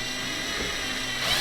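A steady, high-pitched whirring drone from a power drill drilling holes in an N gauge model railway layout baseboard runs continuously, rising slightly in pitch near the end.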